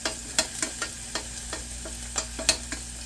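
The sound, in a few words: stirring shrimp frying in a pan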